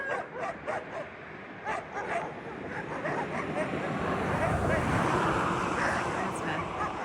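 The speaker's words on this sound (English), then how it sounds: "And then we got the puppies." Husky puppies bark and yip in quick, repeated bursts, with whimpering, over a steady rushing background of wind and water, and people talk nearby.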